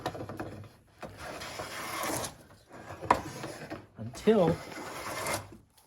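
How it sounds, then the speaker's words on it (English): A hand plane takes thick shavings off a wooden board being flattened, making several soft rasping strokes with pauses between them while a person talks quietly. "So let's take a couple more of these thick shavings."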